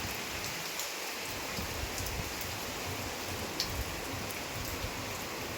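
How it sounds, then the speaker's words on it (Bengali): Steady rain pours down in a constant hiss, with occasional sharper drips and ticks standing out against the wash. "এই যে বৃষ্টি হচ্ছে, দেখেছো?"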